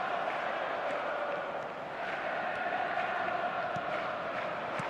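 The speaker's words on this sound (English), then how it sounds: "the crowd are reacting to that now" Stadium crowd noise from an eFootball 2026 mobile match, a steady broad roar of a large virtual crowd rising and swelling across the whole stretch, with faint scattered calls and no clear voices on top.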